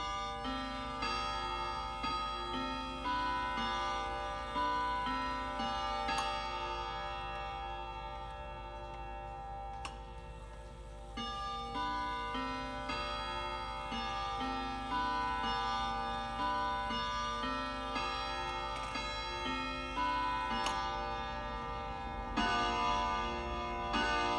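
An Ansonia granddaughter clock chimes the Westminster tune, its long rods ringing out a sustained, resonant melody of layered overlapping tones that carries on steadily without any talk.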